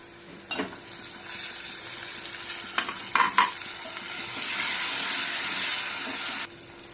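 Tomatoes added to fried onions with curry leaves and turmeric in a pan for kandi pappu munakkaya charu: a soft steady sizzle with a few scraping stirs and light knocks, close and fairly quiet.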